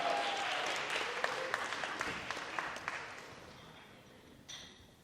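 At a prize draw during a sponsor launch at the State Library of Victoria, a crowd gives a winner a fairly quiet round of applause that thins out and fades within a few seconds.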